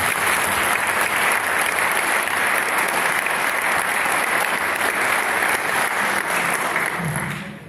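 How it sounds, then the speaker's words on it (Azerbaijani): Audience applause at a memorial ceremony for martyrs in Azerbaijan, a sustained, dense round of clapping from a large crowd that stays loud throughout and fades at the very end. "birinci vitse prezidentimiz Mehriban xanım Əliyevanı alqışlayaq."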